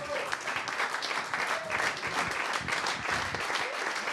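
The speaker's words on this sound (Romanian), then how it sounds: "Uite, publicul te aplaudă în picioare." A television studio audience rises for a standing ovation, with dense, steady clapping filling the whole stretch and a faint voice or two underneath.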